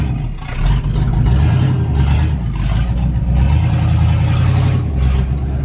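A Corvette engine running with no exhaust fitted, very loud and close, a steady heavy rumble with rising and falling revs and rough clatter throughout, no talking.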